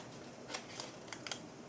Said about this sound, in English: I'm going to use these smaller scissors.